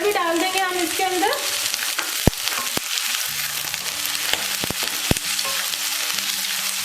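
Shredded cabbage stir-fried in a pan with whole spices, a constant close sizzle broken by sharp clacks of a spatula against the pan, while a voice hums briefly at the start.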